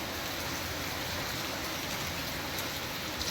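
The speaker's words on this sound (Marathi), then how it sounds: "बघा काहीच केवढं पाऊस चालला, डेंजर" Heavy rain pours down in a dense, steady roar, loud and continuous, with no voices.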